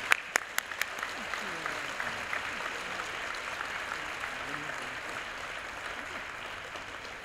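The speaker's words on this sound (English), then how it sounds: "So please, a big round of applause for Superintendent Kathleen Smith." Applause for a school superintendent at a school committee meeting, opening with a few sharp claps that swell into sustained clapping from the room, steady and moderately loud, with some voices underneath.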